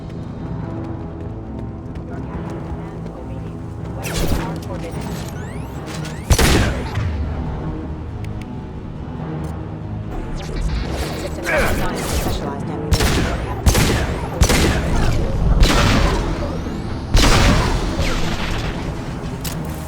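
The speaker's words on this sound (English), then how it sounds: "His mechs shoot without question." Gunfire from combat mechs in the video game Mass Effect 2 crackles in loud bursts and sharp booming shots across the scene, mixed with explosions and a voice talking between volleys.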